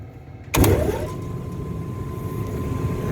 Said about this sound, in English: Alright, now I got a blower.